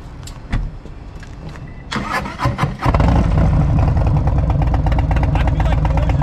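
A Harley-Davidson Road Glide Special motorcycle engine cranks and fires up near the listener, then settles into a loud, steady rumbling idle, with a few brief voices faintly beneath it early on.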